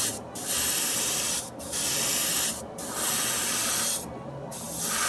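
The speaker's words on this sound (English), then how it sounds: "I'm using same airbrush, same pressure, 20 PSI" An airbrush sprays lacquer paint at 20 PSI, with four loud, steady hissing bursts separated by brief pauses, close to the microphone.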